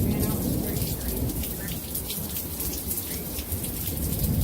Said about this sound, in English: This storm's just getting more intense each time.